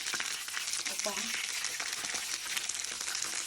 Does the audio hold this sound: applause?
no